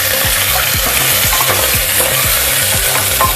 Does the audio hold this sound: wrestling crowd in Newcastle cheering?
no